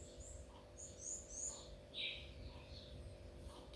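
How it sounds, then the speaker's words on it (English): Soft bird chirps and tweets scattered through a quiet morning, a few brief calls standing out faintly over low background hum. "The birds are chirping."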